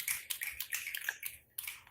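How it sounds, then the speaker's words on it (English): An open mic night audience snapping fingers, a quick crisp patter of many overlapping snaps from a few feet away, pausing briefly before a final cluster. "Snap your fingers for the nomad."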